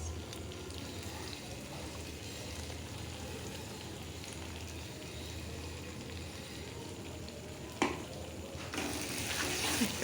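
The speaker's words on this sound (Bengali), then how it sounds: "দিয়ে ওই পেস্টটা দিয়ে ভালো করে একটু কষে নেব।" Mustard, cashew, fennel and yogurt paste with salt and turmeric sautéing in a pan for prawn malaikari, a soft steady sizzle with faint stirring scrapes and a brief clatter near the end.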